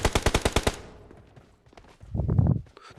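Gunfire in a shooting video game: a rapid automatic burst of about eight sharp shots opens the moment, followed by quieter in-game movement and a brief rumbling rustle.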